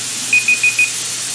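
A kitchen timer beeps four times in quick, even succession, loud and close, during pressure canning of leftovers, then falls silent.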